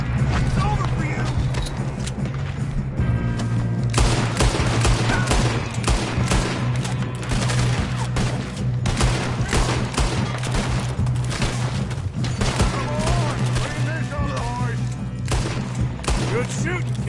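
Dense, continuous gunfire rattles through a PS4 video game shootout, with rapid overlapping shots and booms carrying on loudly for the whole stretch while voices talk over the battle.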